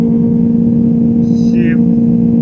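A red car's engine drones steadily as it drives in the Live for Speed racing game, a constant mid-pitched hum with a brief higher tone cutting in partway through.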